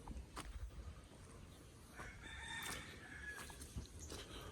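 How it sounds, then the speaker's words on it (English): Chickens clucking and a rooster crowing at a farmyard beside a house under construction in the Philippines, a continuous chorus of clucks with a drawn-out crow in the middle, moderately close with no voices. "On to the chickens. The chickens don't ever shut up."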